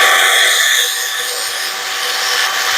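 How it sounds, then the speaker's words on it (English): A wire wheel spun by a drill scrubs a metal exhaust pipe on a Chevy C10 squarebody build, a loud, close, steady high whirring grind with no talk. "I'm going to brush it so it welds better"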